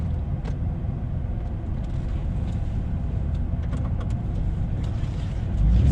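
A used truck idles at a car auction, a steady low engine rumble holding throughout and swelling slightly louder near the end, with faint clicks over the drone.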